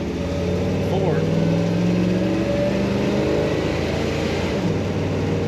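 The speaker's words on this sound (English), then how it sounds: "Today we're driving a 1947 Ford." A 1947 Ford Deluxe convertible chop-top street rod with an automatic transmission drives along, its engine a steady mid-pitched hum with a gentle rise in revs, close and continuous under a faint tonal whine.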